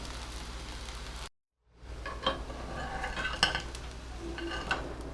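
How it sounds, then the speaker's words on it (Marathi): A poha sponge dosa gets flipped on a hot pan: a spatula scrapes and clinks against the metal after a short silent gap, over a soft continuous sizzle. "हे आपण उलटवून घेऊया आता झाकण ठेवायची गरज नाही"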